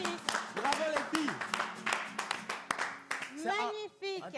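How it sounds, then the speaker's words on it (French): Audience applause for a group of girls after a performance, scattered claps running under continuous talk from a presenter, with a voice rising toward the end. "Non, sérieusement, on applaudit pour les filles."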